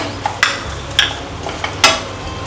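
Jaggery melts in ghee while being stirred in a pan, with a low sizzle underneath and about four distinct scraping strokes of the spoon, close and fairly loud.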